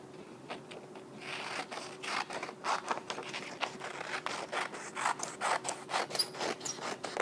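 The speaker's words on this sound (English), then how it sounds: "We're going to cut right on top of the lines and cut those off." Scissors cutting paper along drawn lines for a lighthouse collage, a close series of crisp rasping snips in an uneven rhythm, soft and alone with no talk.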